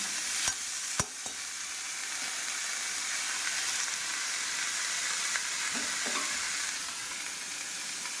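Washed leafy greens dropped into a hot pan give a steady sizzle and steamy hiss, with a couple of sharp clicks early on, the frying fairly loud and constant throughout with no talking.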